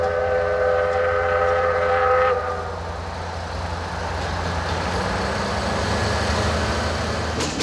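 A passenger train runs along the Seomjin River with a loud steam-style whistle blaring for about two seconds, then a steady rumble of wheels and carriages continues close by.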